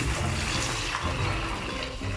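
Hot water pours steadily into a container in a home kitchen, ready for cleaning a stove; a continuous close splashing stream runs for about two seconds with no talk.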